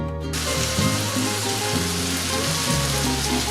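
Onion and garlic hit a hot pan for beef paella, bursting into a loud, steady sizzle of frying that carries on without pause, with no talking.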